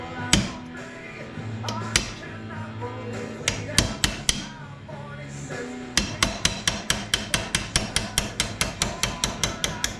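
A hammer drives a roll pin out of an axle that shifts as it is struck, first as irregular metallic blows with a few pauses, then as a steady run of sharp, evenly spaced strikes close by.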